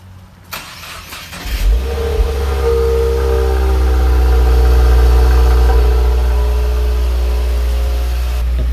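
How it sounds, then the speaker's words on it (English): A car engine cold-starts, cranking and catching, then settles into a loud, steady high idle that holds close by for several seconds. "Let's hear that cold start."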